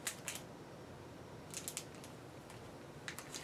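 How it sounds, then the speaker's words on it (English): Plastic packaging around a new Daiso kimono crinkles faintly and close in a few short, scattered bursts against a quiet room background. "What you hear crinkling is I have a Daiso kimono that I obviously have not used yet"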